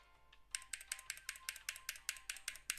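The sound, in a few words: typing on Nuphy BH65 metal mechanical keyboard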